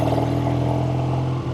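A 1970 Triumph TR6 Tiger motorcycle engine holds a steady, loud, close rumble with strong low harmonics and a slight dip in pitch at the very end of the brief burst.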